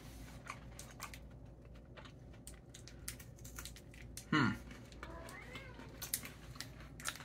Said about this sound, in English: My cat wants some, I think.